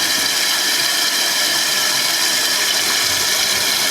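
A toilet tank refills through a newly installed fill valve, a loud, steady hissing rush of water running continuously and close up.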